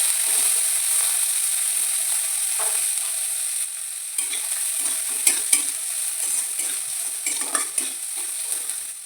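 Chopped onion fries in butter in a pan for chicken rolls, a constant high sizzle broken by occasional scraping and clinking as it is stirred, close up and with no talking.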